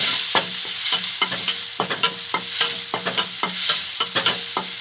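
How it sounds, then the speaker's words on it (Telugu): Onions fry in a pan while a spoon stirs them through, soft sizzling broken by repeated scraping strokes in an uneven rhythm, close and clear with no voices. "ఉల్లిపాయలన్నీ బాగా వేగాలి. ఆనియన్స్ బాగా వేగాలి."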